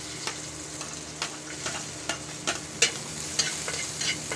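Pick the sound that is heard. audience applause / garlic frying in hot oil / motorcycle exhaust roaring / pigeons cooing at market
garlic frying in hot oil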